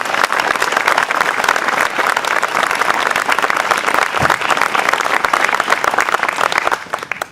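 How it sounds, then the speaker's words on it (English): An audience at a civic ceremony in Faribault gives a sustained, loud round of applause, dense and even clapping that continues for several seconds before beginning to fade. "Please give a round of applause to those people."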